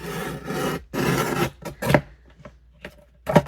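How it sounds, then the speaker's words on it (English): A paper trimmer slices through paper with close, scraping swipes: two long rasping strokes followed by shorter scrapes and a few sharp clicks. "I want a nice straight cut, so I'm going to use my trimmer."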